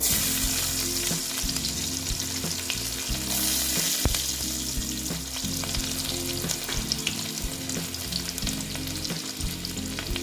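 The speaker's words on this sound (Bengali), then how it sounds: "এবার দিয়ে দিচ্ছি আমি রসুন কুচিগুলো" Chopped garlic fries in a generous amount of hot oil for loitta shutki vorta, a loud, constant crackling sizzle up close. Steady stirring clicks run through it, along with a low rumble underneath, and no one speaks.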